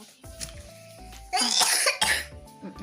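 A person coughs in a home kitchen, a short burst of harsh coughs in the middle, preceded and followed by quieter sounds, close by.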